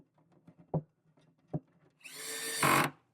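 Hex screws being driven up from underneath to fasten the marquee light assembly of an original Ms. Pac-Man arcade cabinet, with a few soft clicks and two sharp knocks, then a rising whir of a power driver.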